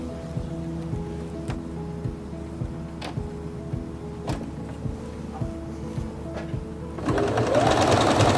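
Singer Quantum Stylist 9960 computerized sewing machine stitching out a pattern, a rapid rhythmic needle clatter with regular sharp ticks roughly every second, close, ending in a brief burst of noisier whirring.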